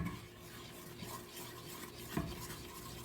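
A spoon stirs cocoa powder into a warm mixture in a pot, making soft scraping and clinking sounds against the metal, quiet and close with a faint sizzle beneath.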